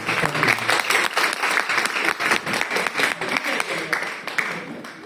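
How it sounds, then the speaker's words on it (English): A book launch audience in West Yorkshire claps to welcome a guest to the stage, sustained even applause at moderate loudness with a hint of crowd noise beneath. "I will appreciate if you can welcome our guest with a round of applause, please."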